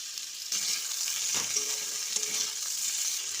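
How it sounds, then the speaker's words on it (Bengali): Vegetables fry in a pan for a Bengali dudh shukto, hot oil sizzling steadily and close while a utensil stirs through them with a few soft scraping movements. "এদিকে একটু আবার সবজিটা নেড়ে চেড়ে দিই।"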